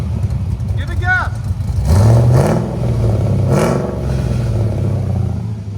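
A car engine fitted with an aftermarket muffler revs up twice in quick succession, a deep rising exhaust note that settles back to idle, with people talking close by over it.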